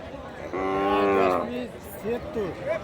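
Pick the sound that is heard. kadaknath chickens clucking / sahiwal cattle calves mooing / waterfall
sahiwal cattle calves mooing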